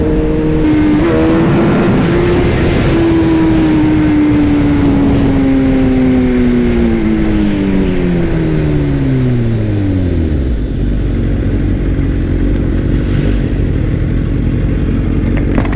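BMW S1000RR and Suzuki GSX-R1000 sport motorcycles roar loudly on a highway near the Yavuz Sultan Selim Bridge, engine pitch climbing and then falling steadily as they decelerate, with heavy wind rumble throughout.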